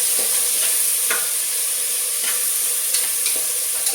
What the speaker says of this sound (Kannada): ಈ ಥರ ಚೆನ್ನಾಗಿ ಫ್ರೈ ಆಗಬೇಕಿದು.